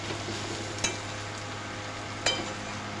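Sliced onions fry in a pan for sidol bora with ash gourd leaves, a steady close sizzle broken by two sharp scrapes of stirring.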